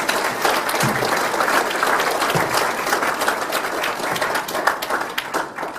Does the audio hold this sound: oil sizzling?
no